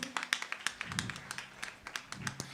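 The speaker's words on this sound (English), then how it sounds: "Please give them a round of applause" Concert performers get scattered, uneven applause from a modest audience, with a few distinct nearby claps standing out over a light, steady patter.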